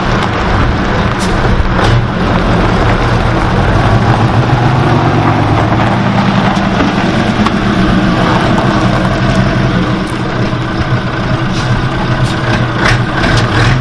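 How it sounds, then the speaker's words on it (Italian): A heavy naturally aspirated diesel engine of an Iveco 190/F/35 truck runs loud and close, a steady rough rumble that swells slightly as it revs. "dai ancora un po' di gas, fammi sentire un po' di gas, bravo Daniele,"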